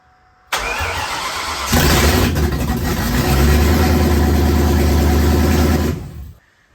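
A Saleen car's freshly rebuilt engine starts and settles into a steady, loud idle, its low rumble rising briefly before running evenly and then cutting off.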